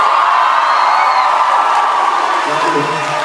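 A concert audience at the Space Camp 2016 event in Frankfurt fills the space with dense, steady crowd cheering and applause that keeps roughly constant loudness, with a few whoops rising above and a voice joining near the end.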